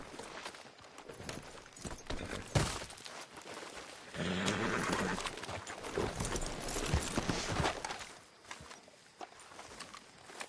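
Horse hooves clip-clop in Red Dead Redemption 2, steady footfalls mixed with rustling and in-game ambience, moderately loud with a louder stretch partway through.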